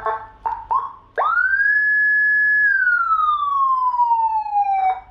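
Whelen 60-watt siren module driven through a 100-watt speaker: a few short chirps, then a loud sustained tone that holds steady before slowly sliding downward, close and alone with no talk.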